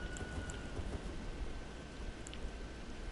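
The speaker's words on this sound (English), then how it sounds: "it's raining right now" Steady rain pours in the fantasy game Elden Ring, a dense continuous hiss with scattered droplet taps and a few faint high chimes, sounding even and moderately quiet with no talking.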